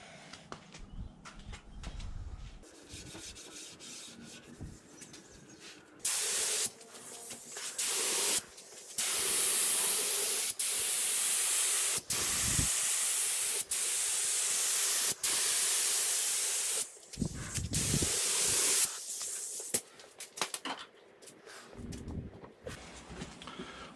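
An HVLP spray gun sprays lacquer in loud, hissing bursts of several seconds each, broken by short quiet pauses, with no speech.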